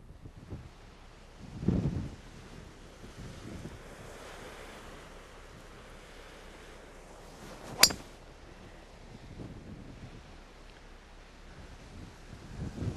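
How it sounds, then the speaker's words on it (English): Wind gusting across an outdoor golf course, a steady broadband rush with low microphone buffeting, a stronger gust near the start and one sharp click midway, with no voices. "we have a little wind blowing today"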